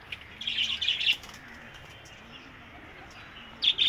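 Pigeons kept in a netted enclosure coo and chirp nearby in short bursts, with a quiet pause between, at moderate loudness.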